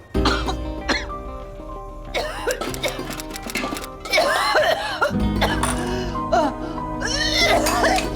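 A woman coughs repeatedly in a dramatized indoor scene, harsh throat-clearing bursts mixed with voices and background music.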